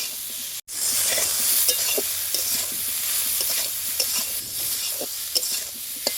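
Chopped banana blossom frying with turmeric powder in a pan, with a continuous close sizzle and hiss broken by frequent scraping stirs after a brief dropout at the start.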